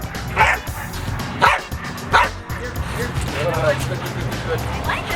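Dog barking and yipping in short bursts during recall training for aggression, with a few sharp yelps early on, close and fairly loud, amid a person's speech and constant background noise.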